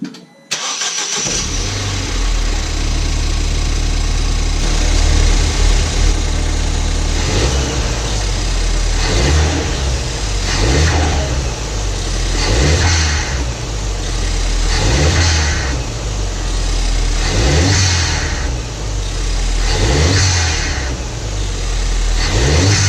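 A crashed Fiesta fitted with a big boost hose kit starts and settles into a steady idle, with regular revs rising and falling roughly every two seconds, loud and close throughout.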